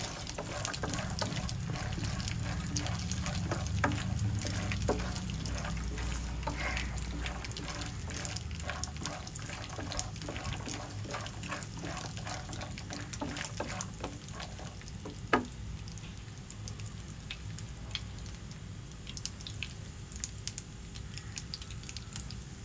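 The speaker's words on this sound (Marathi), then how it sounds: "शेंगदाणे आपल्याला लालसर जरा करून घ्यायचे।" Peanuts roast in a pan, giving a steady, close crackle with soft rattling as they are stirred, continuous throughout with no voices.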